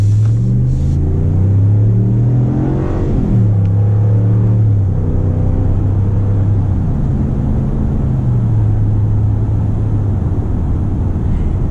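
A 2019 RAM 1500 Big Horn pickup, its engine paired with a ZF 8-speed transmission, pulls forward under moderate throttle with a loud, close, deep engine rumble that rises and falls through several gear changes as it accelerates.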